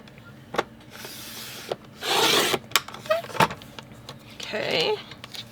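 Scissors cut through strips of deep purple paper up close, with sharp snips and two longer rasping cuts between quieter handling rustles.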